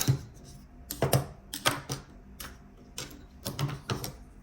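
Scissors cut fabric for a dolman shift dress, giving a series of crisp, irregular snips and crunches close up, with short pauses between the cuts.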